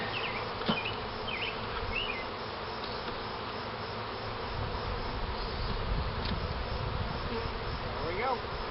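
Honeybees buzz steadily around a hive trapout device, a dense, continuous hum with individual bees droning close past the microphone at moderate volume.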